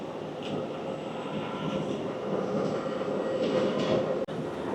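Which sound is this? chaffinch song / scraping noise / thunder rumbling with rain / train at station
train at station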